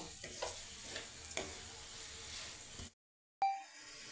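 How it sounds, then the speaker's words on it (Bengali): Red amaranth greens with sugar cooking in a pan, a close hissing sizzle with soft stirring scrapes for about three seconds, then a sudden silence and a short sharp clink as it resumes. "2 মিনিটের মতো শাকটাকে রান্না করে নেব।"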